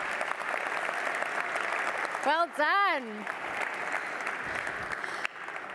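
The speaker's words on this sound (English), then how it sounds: "Let's give them all a round of applause." An audience at a security awards ceremony applauds with a sustained, even wash of clapping, while a nearby voice briefly speaks over it partway through.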